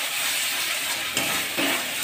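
Masala spice paste frying in oil in a pan for shahi paneer, a close, constant sizzle broken by a couple of scraping stirs.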